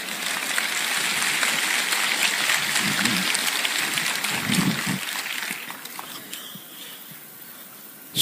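An audience at a Krishna Janmotsav comic poetry gathering claps in a dense, steady wash of applause that holds for about five seconds, then thins and fades away.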